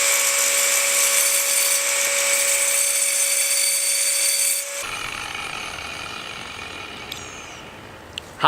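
Wood being cut with a saw attachment on a power drill while building a budget parrot aviary, a steady loud whirring grind that runs for several seconds, then drops in pitch and level before a short clatter at the end.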